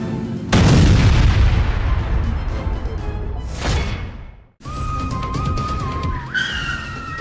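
A motorbike blast like a bomb during a race among friends: a loud, sudden boom bursts in, then a roaring rumble fades over several seconds before cutting to a different noisy scene with a steady tone.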